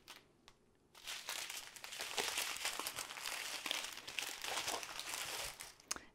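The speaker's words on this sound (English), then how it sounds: "Don't you just love that crinkling of the plastic?" Plastic packaging of a diamond painting kit crinkling close up, a dense, continuous rustle with sharp crackles that starts after a brief quiet moment and runs to the end.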